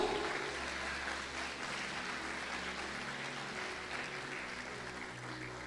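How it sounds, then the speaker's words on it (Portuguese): Congregation applauding in church during a sermon, a faint, distant, sustained roll of clapping over a low hum and background tones, steady throughout with little variation. "Será que você pode aplaudir Jesus?"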